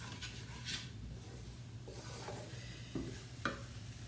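Spices being stirred into hot olive oil in a pan, with a soft steady sizzle under scraping stirring strokes and a few sharper clinks of the utensil against the pan.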